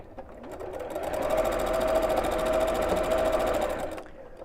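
A sewing machine stitches cushion cover pieces in one steady, close, whirring run that starts, holds for about three seconds and then stops, with no talking.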